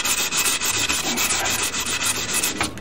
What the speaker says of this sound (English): Now you want to rub this stuff down.